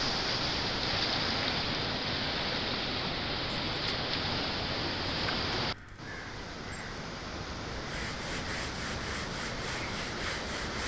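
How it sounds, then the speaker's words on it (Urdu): Floodwater of the Kabul River rushes beneath the Kashti boat bridge at Nowshera, a loud, dense, continuous roar that briefly drops in level partway through and then carries on steadily. "یہ دیکھیں پانی کا دباؤ، پانی کا شور۔"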